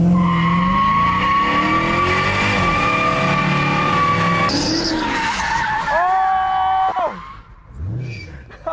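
A lifted Dodge Challenger Hellcat pulls away with a loud, sustained squeal of spinning tires over its revving engine, the screech gradually fading as the car moves off, with brief voices in the background.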